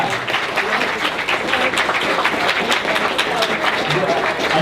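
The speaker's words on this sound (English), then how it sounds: "Everyone, give them a round of applause." Crowd at an anime fan panel breaks into steady applause, a thick continuous patter of clapping with some voices and cheers mixed in.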